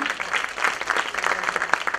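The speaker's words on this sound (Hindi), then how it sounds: "एक बार और जोरदार तालियां।" Audience at a duet singing competition applauding, with a short burst of brisk, fairly close clapping from a modest crowd.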